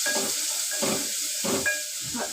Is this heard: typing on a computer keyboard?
no